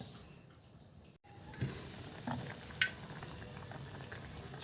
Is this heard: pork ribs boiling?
yes